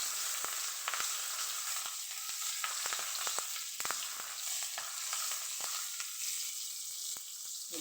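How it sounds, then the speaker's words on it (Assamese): Onion frying in hot oil in a kadai, already very hot from frying fish, gives a steady, even sizzle, broken by sharp scraping ticks as it is stirred now and then. "পিঁয়াজটো বহাই দিলোঁ। অলপ লাৰি দিলোঁ পিঁয়াজটো।"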